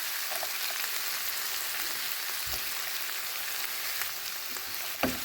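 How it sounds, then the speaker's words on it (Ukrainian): Steady frying sizzle of onion and garlic in a pan, a constant crackling hiss with a couple of soft stirring knocks near the end, no voices. "Цибулька підсмажилася, вона вже золотиста, і до неї відправляю чесничок."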